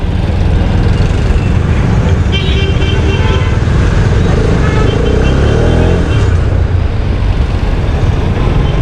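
Dense road traffic on a wet, flooded street, with a steady loud roar of engines and tyres throughout and faint voices mixed in.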